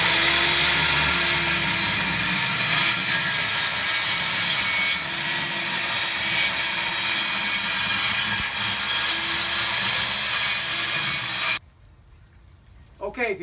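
A saw cuts steadily through wooden porch floor boards in one long, loud, close rasping run, then stops abruptly near the end, leaving a quiet room.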